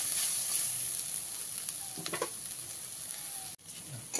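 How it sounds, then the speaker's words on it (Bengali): Ground chili paste frying in a pan for a Bengali potato fry, with a steady soft sizzle and a few stirring scrapes, heard close with no talking. "লঙ্কাটা দিয়ে খুব ভালো করে মিশিয়ে নিয়ে অল্প কিছু সময় ভেজে নিয়েছি"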